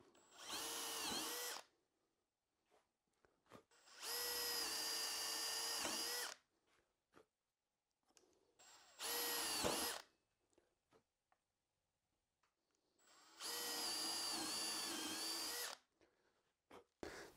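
An electric drill whines in four separate bursts of a couple of seconds each, with quiet gaps and small clicks in between, boring holes with the bit held vertical.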